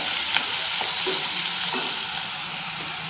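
Plenty of chopped onions frying in oil until golden brown for whole masoor curry, a dense steady sizzle with faint stirring scrapes, close and continuous.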